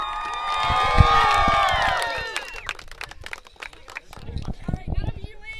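A crowd at a high-school track meet cheers the boys' and girls' champion team. Loud, excited whoops and shouts come in a burst, then scattered clapping and footfalls follow, with voices mixed in.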